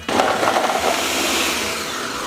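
A blender roars steadily as it grinds ramps and other hot sauce ingredients, loud and continuous with a rough whirring tone after a sudden start.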